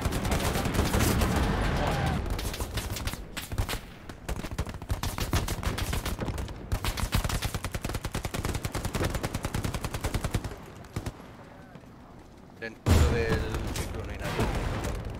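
Sustained gunfire from a tower in the World War II shooter Hell Let Loose, dense automatic bursts with scattered single shots rattling on and on, loud and close, with voices talking over it.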